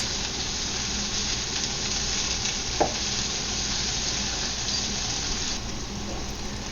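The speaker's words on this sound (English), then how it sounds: "So the bitter melon's been cooking now for maybe 3-4 minutes." Bitter melon sizzles as it stir-fries in a pan, a steady close crackling hiss with one sharp clink of a utensil partway through.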